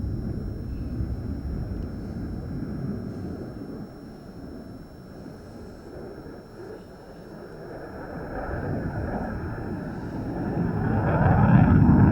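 A jet aircraft performing at a naval air station air display roars steadily at a distance, its broad rumble swelling louder toward the end, with wind buffeting the microphone throughout.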